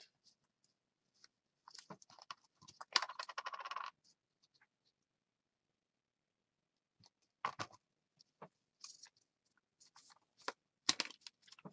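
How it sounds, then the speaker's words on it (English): Paper crinkling while a junk journal is being made: irregular dry rustling and crackling bursts, a dense flurry early on, then a quiet pause before scattered sharper crinkles return, close up with no talking. "Listen to the crinkle sound."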